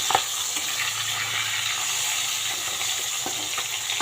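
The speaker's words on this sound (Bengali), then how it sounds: "এখন এই যে মাছটা ভাজতে বসিয়ে দিলাম" Small fish frying in a pan of oil give a steady, close hiss of sizzling that runs throughout, with a few faint clicks of a utensil.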